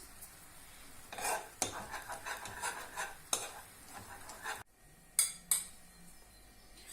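A spoon stirs and scrapes a thick, fried flour mixture in a pot for a Turkish dish. The strokes are irregular, with soft sizzling and occasional metallic clinks, quiet and close, and no one speaks.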